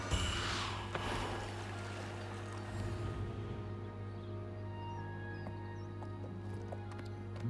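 Horse hooves clip-clop in a relaxing fantasy-style video game, a faint series of light knocks over a steady low hum and ambient background tones.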